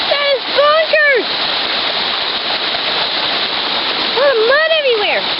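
Rainwater dripping and running around a muddy home after a storm, a constant close wash of flowing, splattering water with a voice talking over it at the start and end.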